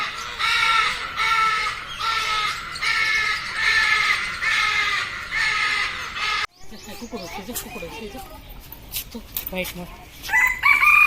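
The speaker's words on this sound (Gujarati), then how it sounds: "અલગ અલગ બધા પક્ષીઓ છે અને પેરોટભાઈ જબરજસ્ત બોલે છે" Loud, repeated rhythmic calls from a bird in a zoo aviary, followed by a jumble of other bird calls and voices talking nearby.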